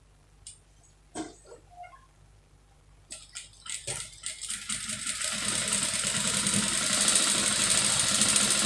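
A sewing machine stitches lace fabric onto a satin lining. It starts with a few scattered clicks and handling taps, then settles into a faint, rising mechanical whir that grows steadier and louder toward the end.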